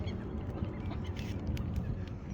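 Ducks and geese crowd a pond on a rainy day as they are fed bread, their honks and quacks faint and scattered over a low, busy background.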